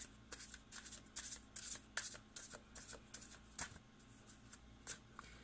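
Angel oracle cards riffled and shuffled by hand in a quick, uneven run of soft flicking bursts, close and fairly quiet, with no talking.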